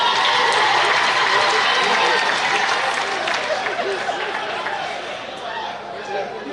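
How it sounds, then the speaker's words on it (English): A large crowd at a provincial political party conference applauds in a loud, dense, continuous roar of clapping that eases off slightly toward the end. "Again, you give a very big round of applause for Eunice Bojosi."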